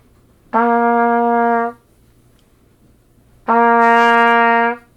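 Two sustained trumpet notes on the same pitch, an open C, each held about a second, with a short silent gap between them.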